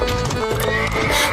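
A horse neighs while hauling a horse cart loaded with fruit baskets and food pots, the whinny loud and close over rolling clatter and hoof noise with a faint voice underneath.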